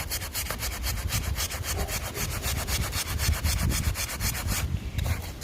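Brisk rhythmic rubbing strokes sound as a garden pruner blade is polished by hand, a rapid series of close scraping passes with no voices.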